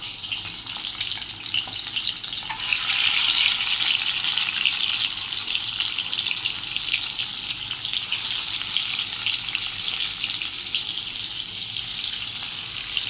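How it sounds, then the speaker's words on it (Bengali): Eggs coated in turmeric and salt frying in a pan, a loud, steady close-up sizzle that swells after a few seconds and hisses on without pause. "ডিমগুলো ভেজে নেব"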